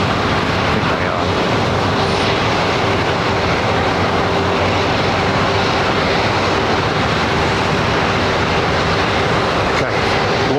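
Jet airliners taxiing for departure at London Heathrow Airport make a loud, constant broadband engine roar with a steady low whine, unbroken throughout and fairly near.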